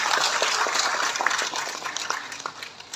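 A crowd claps together at the official launch of a book on honesty in early childhood education, dense applause fading gradually over a few seconds, no voices over it.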